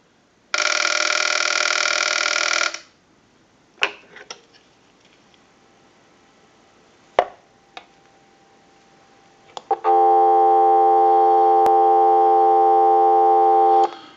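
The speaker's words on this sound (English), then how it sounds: "We'll turn it up and down, give you some dial tone." Through a TA954 military field telephone receiver, a steady tone sounds briefly, then a few clicks and taps, then the continuous tone returns at length, close and clear with no voices.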